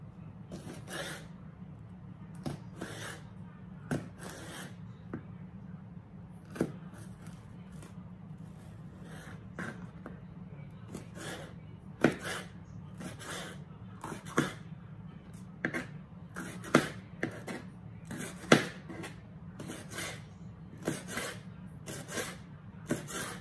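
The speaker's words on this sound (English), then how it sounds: "I was just slicing the onions up the same way" Knife slicing onions into thin fajita-style strips on a cutting board, a steady run of short crisp chopping taps that quicken and sharpen toward the end, heard close over a low background hum with no talk.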